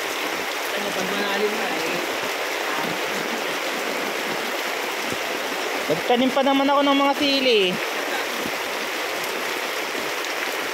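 Heavy rain pours down in a dense, continuous hiss with rushing water, while a person talks over it partway through.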